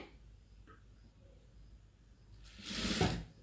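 A sewing machine stitches a cross strip half an inch in, a short burst of rapid motor whir near the end after quiet handling noises, close and fairly loud.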